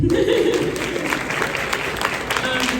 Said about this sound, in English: Round of applause for Kid.